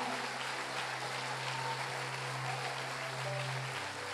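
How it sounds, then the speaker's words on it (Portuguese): Church congregation applauding at a Portuguese-language worship service, a steady wash of clapping from many hands with a low sustained tone from music or an organ underneath. "Pode aplaudir Jesus."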